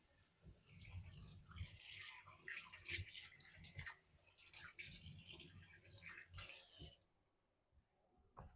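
Water runs from a kitchen tap while hands are washed beneath it, a steady close hiss broken by splashing and rubbing, stopping abruptly near the end with a few faint drips after.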